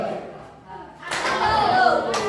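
Students in a school seminar room answer a call with a single hand clap: a sharp burst of group clapping after a quiet pause, with voices and room noise around it.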